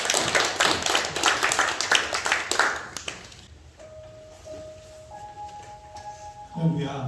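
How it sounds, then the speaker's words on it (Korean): A church congregation applauds during a Sunday worship service, a dense patter of clapping that fades out after about three seconds and leaves quiet room tone with faint tones. "다시 한번 우리 감독님께 박수 한번 드리겠습니다"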